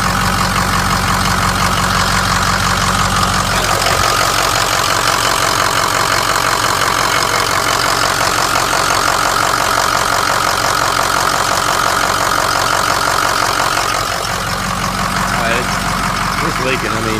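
A 550 engine runs and idles steadily up close, a loud continuous drone with a slight change in tone partway through, while a person talks over it.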